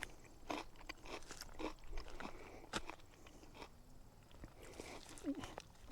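A raw Sanford green bean is bitten and chewed close up, giving a series of crisp crunches followed by quieter, softer chewing sounds.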